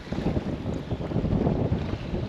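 Wind gusting around a small fishing boat on Southampton Water, a loud buffeting rush against the microphone with low rumbling surges and no voices.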